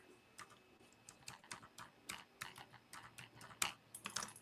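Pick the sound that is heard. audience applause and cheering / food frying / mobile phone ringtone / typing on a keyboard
typing on a keyboard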